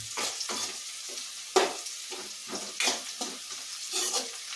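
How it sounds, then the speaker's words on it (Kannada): Eggs for egg usli fry in a pan while being stirred, with a continuous sizzle and repeated scraping strokes of a spatula at an irregular rhythm, close and moderately loud. "ಇನ್ನೊಂದು ನಿಮಿಷ ಫ್ರೈ ಆಗಲಿ"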